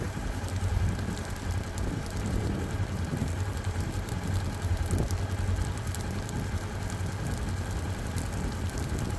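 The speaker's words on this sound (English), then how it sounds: "Oh yeah, I feel a big breeze blowing right now." Steady wind rushing across a pasture during a controlled burn on a ranch, a continuous broadband roar of breeze buffeting the microphone with no speech.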